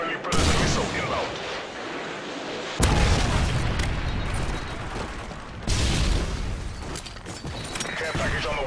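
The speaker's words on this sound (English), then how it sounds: "Friendly Predator missile inbound." Loud, heavy booms from a Predator missile strike in a first-person shooter game, with several deep explosive blasts and rumbling gunfire-like bursts filling the clip alongside game voice callouts.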